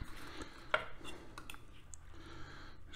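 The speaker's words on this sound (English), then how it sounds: "I'm gonna go ahead and cut this open." Knife cutting into crispy-skinned smoked barbecue chicken cooked on a Pit Barrel Cooker Junior, with faint crackly crunching and one sharp crisp snap, quiet and close, with no talk.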